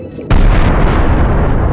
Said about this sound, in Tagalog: Mukhang may pagsabog sa isa sa mga water orb.